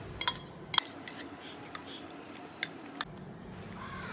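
A utensil scrapes and clinks against a dish while white sauce is mixed into chicken loaded fries, a few sharp taps scattered over quiet kitchen background.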